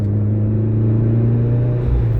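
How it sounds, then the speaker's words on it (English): Mitsubishi Lancer EVO V engine droning steadily at close range as the car pulls through the gears, a continuous loud rumble with a slight dip near the end. "You go through the gears so quick."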